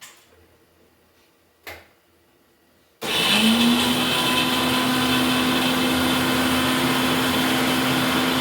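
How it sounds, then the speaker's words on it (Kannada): After a quiet start with a single faint knock, a mixer grinder kicks on loudly and runs at a steady, high whir as it grinds grated coconut until the end. "ಇದನ್ನು ಸ್ವಲ್ಪ ನಾನು ನುಣ್ಣಗೆ ಮಾಡಿಬಿಟ್ಟು ಹಾಕ್ತೀನಿ ಮಿಕ್ಸಿನಲ್ಲಿ"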